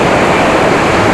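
Langvoku waterfall in Karbi Anglong roars as water rushes down, a loud, dense and continuous wash of noise heard up close with no break and no talk.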